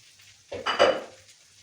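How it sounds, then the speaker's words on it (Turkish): Food being reheated in butter in a pan gives a short burst of sizzling and stirring that swells and fades within about a second, close by and alone. "Bir şey böyle ısıtırken de tereyağı alıyorum ki lezzetli olsun"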